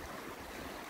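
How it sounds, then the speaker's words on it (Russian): Turbulent river water churns and rushes in a dense, continuous roar, close and loud throughout. "Вот, видите, какое бурление воды в реке."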